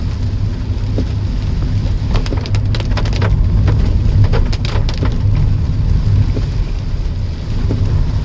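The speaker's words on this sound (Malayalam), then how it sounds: "അത്യാവശ്യം നല്ല മഴയുണ്ട്." Heavy rain drums steadily on a car during a drive through a forest area between Palode and Trivandrum, a dense continuous patter with a low road rumble beneath it.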